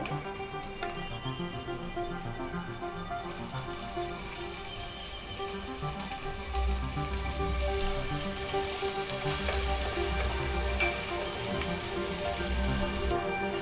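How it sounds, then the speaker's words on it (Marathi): Chopped onion goes into browned ginger-garlic paste for a Madras-style egg curry, giving a steady, continuous sizzle and hiss that swells partway through, with no talking. "आता आपण कांदा टाकून घेऊ"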